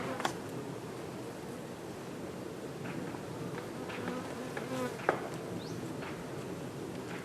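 Honey bees buzz around a beehive during honey harvesting, a faint continuous hum with individual bees passing near the microphone, over quiet background rustling.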